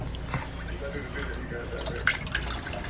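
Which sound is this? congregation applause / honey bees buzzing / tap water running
tap water running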